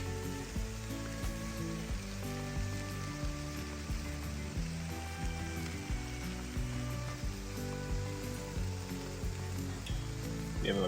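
Olive oil sizzling steadily on a hot Blackstone griddle while breakfast bagel ingredients cook, a continuous close crackling fry with no talking.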